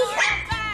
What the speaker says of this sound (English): Yes, you guys are getting your bark now, huh?